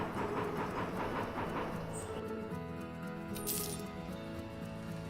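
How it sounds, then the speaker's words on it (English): Bounty Train game locomotive running with a steady rumble and rhythmic wheel clacking that eases into a smoother hum, plus a brief light metallic chime near the end, no speech. "This train is so fast."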